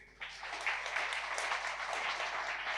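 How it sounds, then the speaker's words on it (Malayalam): A brief round of applause from the audience at a spiritual media launch event, with steady, even clapping that starts abruptly and holds at a moderate level throughout. "ഒരു ചെറിയ കയ്യടി."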